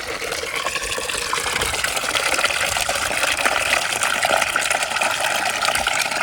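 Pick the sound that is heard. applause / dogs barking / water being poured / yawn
water being poured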